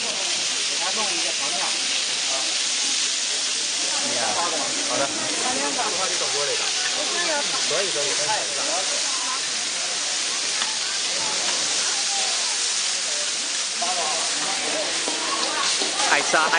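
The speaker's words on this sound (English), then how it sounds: "I actually heard the dumplings sizzling" A steady, loud sizzling hiss of dumplings frying on a hot griddle at a street food stall in Kunming, Yunnan, continuous throughout with faint crackles, voices murmuring faintly underneath.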